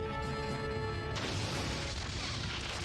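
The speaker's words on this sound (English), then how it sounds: "Shields are falling. Borg cube is firing." Weapons fire from a Borg cube striking a starship in an old interactive movie game, a sudden broadband blast erupting after a sustained tonal hum and rolling on as a loud, dense roar.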